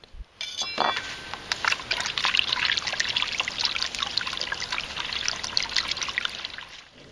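Water pours and trickles steadily onto quicklime with a bright, fizzing hiss and scattered crackles, close and continuous for several seconds.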